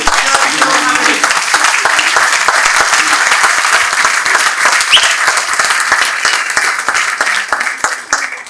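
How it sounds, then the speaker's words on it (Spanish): Loud, dense applause from a conference audience at a trade union congress welcomes a guest speaker, a steady close roar of clapping that fades slightly at the end, with a voice briefly heard beneath it. "Un fuerte aplauso para recibir al compañero Giorgio Mavrikos."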